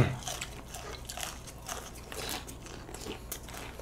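Crispy fried chicken is bitten and chewed up close, giving a run of crunchy, crackling bites at a steady eating rhythm with no clear talking.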